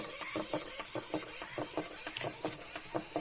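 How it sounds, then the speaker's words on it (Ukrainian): A small toy robot's motor whirs as the robot drives off, a quiet close mechanical buzz with rapid regular ratcheting pulses, no voices. "Поїхав твій робот."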